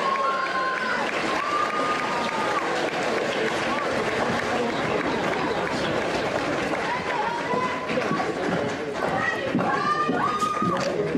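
A dense, continuous round of applause fills a hall at a JROTC awards ceremony, mixed with crowd chatter and the murmur of many voices, staying steady and fairly loud throughout.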